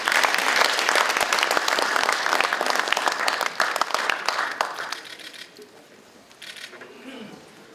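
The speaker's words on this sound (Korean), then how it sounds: "박수로 환영해 주시기 바랍니다" An audience at an urgent political forum gives welcoming applause: dense, steady clapping with camera shutter clicks scattered through, fading away toward the end.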